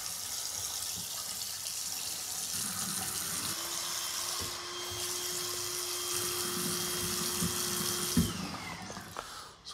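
A water tap runs steadily in a dusty room with a slab leak, giving a constant rushing hiss. A thin whining tone rises over it midway, and a sharp knock comes near the end.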